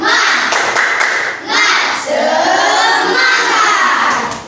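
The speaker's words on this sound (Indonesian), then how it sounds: "pimpin temannya tepuk semangat" A school class does a rhythmic spirit clap together in an Indonesian classroom lesson, with loud group clapping mixed with children's chanting voices close by.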